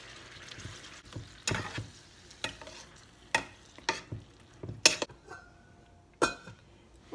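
Pork and pumpkin casserole mixture cooking in a pan, with a soft bubbling sizzle broken by repeated sharp scrapes and clanks of a utensil stirring against the pan, no talking.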